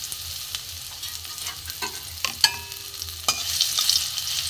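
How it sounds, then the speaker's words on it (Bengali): Garlic frying in hot oil in a wok, a close, steady sizzle broken by sharp spatula scrapes and clinks as it is stirred, with no voices. "রসুনটা একটু ভেজে নেব"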